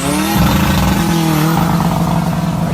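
Close, loud, steady engine roar from a diesel BMW 3 Series G20 LCI, its pitch climbing then settling in a sustained rev, with no talking.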